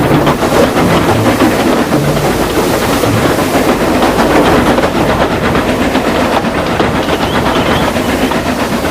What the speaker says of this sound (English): Soon, Gregory raced down the line with his heavy goods train